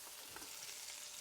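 Butter and lengthways-cut baby carrots frying in a pan, a soft, steady sizzling hiss, faint and continuous, with no talking.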